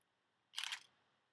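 A Nikon camera fitted with a 35mm f/1.8 DX lens fires its shutter at a fast speed in dim light, giving one quick, crisp mechanical snap, close and fairly loud, with quiet before and after.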